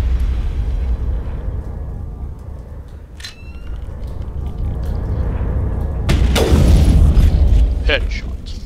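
Weapon fire in the video game Mass Effect, aimed at Geth enemies: low, booming rumble under a dense game soundscape, with a sharp loud burst of blasts near the end.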